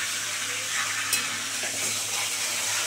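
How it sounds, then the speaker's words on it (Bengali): A katla fish head fries in oil in a pan, giving a continuous crackling sizzle with stirring scrapes and a sharp clink partway through, close and steady with no voices. "3 মিনিট ধরে ভাজা হোক ভালো করে"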